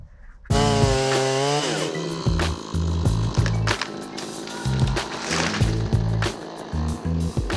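A chainsaw cuts into a tree being taken down during a century-old duplex townhome renovation, its engine revving up loud and close then bogging and surging in uneven bursts as the chain bites the wood.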